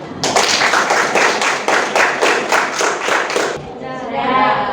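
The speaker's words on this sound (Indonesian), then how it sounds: "Tepuk tangan lagi" A classroom of students claps in unison, a rhythmic burst of about ten strong, evenly spaced group claps close by that stops abruptly, followed by a faint voice.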